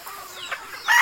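Chickens clucking on a small backyard farm, a few short close calls in quick succession with a louder squawk at the end, no talk over them.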